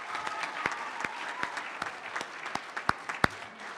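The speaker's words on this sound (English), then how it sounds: "I'd like one more rousing applause for all of our awardees tonight" Gala audience applauds the awardees with sustained, fairly soft clapping from a crowd, some sharper claps popping out from nearby hands as it carries on.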